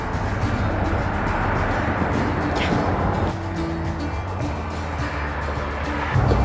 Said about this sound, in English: you do hear a lot of the cars, especially with this camera, because it picks up noise like crazy, but that's the main road